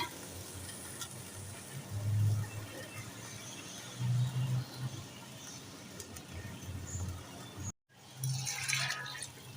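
About one and a half cups of water go into a pot of potatoes and peas for aloo matar pulao, making soft pouring splashes in a few separate bursts with quiet gaps between them.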